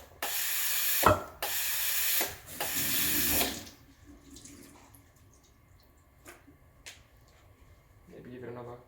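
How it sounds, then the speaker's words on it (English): Breville Oracle BES980 espresso machine's steam wand purging in short hissing bursts, three loud blasts in the first few seconds, followed by quieter clicks and faint background sounds. "once you push it down, it'll purge steam through the wand just to remove any milk residue on the inside"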